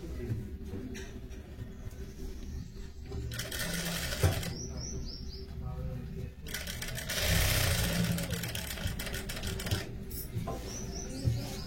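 Sewing machine stitching a kurti in a home tailoring setting, running in steady bursts with short pauses, near and fairly loud, with faint bird chirps in the background.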